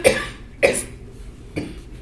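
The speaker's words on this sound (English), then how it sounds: "His chuckle turns into a gravelly cough." An older former smoker gives three rough, gravelly coughs spaced out over a couple of seconds, the first two close together and the last softer, with no talking.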